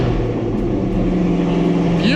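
Chevy Colorado ZR2 pickup truck engine and exhaust droning loudly from inside the cab, a steady low rumble with a rising rev near the end.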